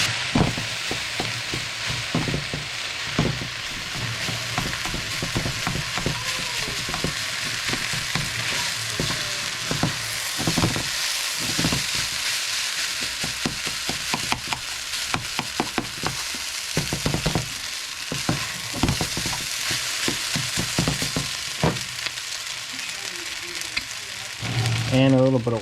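Samoan fried rice sizzles continuously in a hot pan while a utensil stirs it, sending frequent scraping clicks over the even crackling fry, close and fairly loud throughout.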